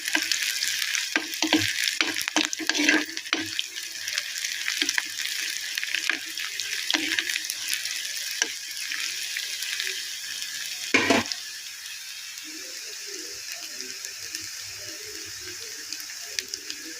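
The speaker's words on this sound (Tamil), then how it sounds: "வெங்காயம் நல்லா வதங்கி வரட்டோங்க" Onions frying in a pan for coconut chutney, a steady close sizzle with frequent clattering stirs early on and a sharp knock around the middle, after which quieter bubbling frying continues.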